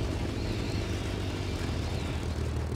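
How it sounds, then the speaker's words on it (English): Spitfire LF Mk IX piston engine droning steadily in War Thunder, a continuous close propeller roar at even volume with no talk. "We gotta cool our engine for a little bit."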